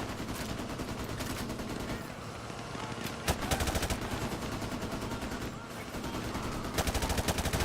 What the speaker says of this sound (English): start shooting at that guy